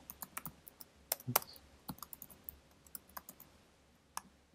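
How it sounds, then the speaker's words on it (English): Someone types a name on a computer keyboard in a quiet room, a scatter of irregular, crisp key clicks with a few louder strikes and short pauses, no one speaking. "you are going to type in the faculty's name"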